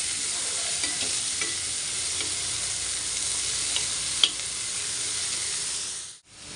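Egg bhurji stir-frying in a pan, a steady close sizzle with soft spatula ticks and one sharp clink, cutting off abruptly at the end, no voices.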